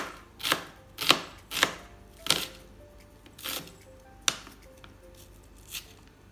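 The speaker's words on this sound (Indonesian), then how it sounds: "Kemudian cabenya diiris memanjang." A sharp kitchen knife slicing chili lengthwise on a cutting board: about eight crisp, distinct cuts at an uneven, unhurried pace, close-up and quiet, with no speech.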